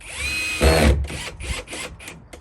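A power drill whirs in short bursts, a louder grinding surge as a screw is driven into wood, then several brief stop-start runs.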